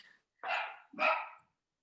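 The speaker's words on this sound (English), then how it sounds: "Whose dog is that?" A small Havanese Maltese dog gives two sharp, close barks about half a second apart, loud and clear in an otherwise quiet space.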